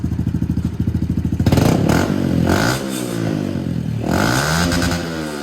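A 2020 Honda CRF110 dirt bike with a BBR D3 exhaust idles with a rapid, loud popping thump, then revs up in several rising and falling blips, close and alone without talk.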